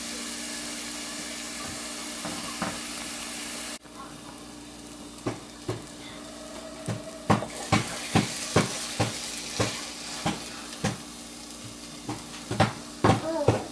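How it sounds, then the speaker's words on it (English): A pot of Nigerian jollof rice base frying on the stove, with a steady sizzle and hiss under a run of sharp clinks and scrapes as a spoon stirs against the pot, nearby and moderately loud. "I'm going to fry this for 10 minutes"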